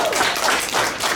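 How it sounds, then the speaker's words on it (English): A short burst of audience applause for a volunteer during a talk on magical experiences, dense and fairly loud, lasting barely over a second. "round of applause for Mark"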